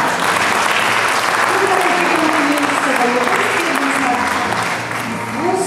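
Loud, steady crowd applause fills a sports gala hall in Olsztyn, dense and continuous from start to finish, with a voice faintly audible over it.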